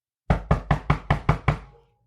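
Seven sharp, evenly spaced knocks on a door made by the narrator, loud and close, the last one fading out, with no talking.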